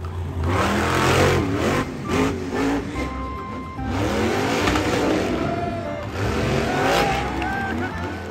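A toy monster truck's engine sound effect revs and roars in a few surging bursts, loud and close, with a voice talking over it at times.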